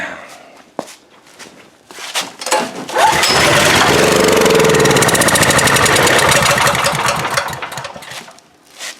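A small gasoline engine, given starting spray, sputters, catches and roars loudly for several seconds, then dies away, with a few knocks and clatters before and after.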